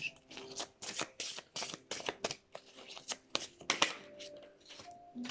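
Cards being shuffled for a card reading, with repeated close riffling bursts in a quick uneven rhythm and faint voice-like tones in the background.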